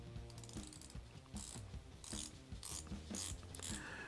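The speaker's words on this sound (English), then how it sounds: "it has a little sort of clicky sound to it that sounds very, very mechanical" Sapphire bezel on a Salt Watches DayDive automatic skin diver watch ratchets as it is turned, giving crisp, close mechanical clicks in short uneven bursts, quiet and alone.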